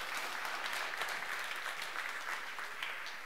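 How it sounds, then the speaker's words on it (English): An audience at a tech conference gives a big round of applause, a steady wash of many hands clapping, heard at a distance and faint, with no talking over it. "let's have one more big round of applause for Jonathan, please."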